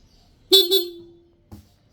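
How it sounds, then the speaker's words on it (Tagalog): A loud, close Honda ADV160 motor scooter horn gives two quick beeps that merge into one held tone, then cuts off, followed by a faint click. "Ang lakas din pala ng horn nito."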